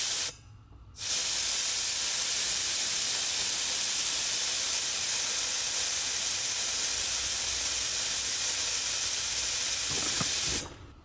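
Compressed air hisses loudly and steadily from a drain valve as an air suspension tank fed by dual Viair 444C compressors empties, a continuous spray lasting about ten seconds before stopping abruptly.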